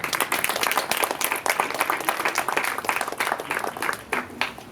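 An audience at a mock trial of Jaurès claps steadily for several seconds, dense overlapping applause without a break, heard at moderate distance.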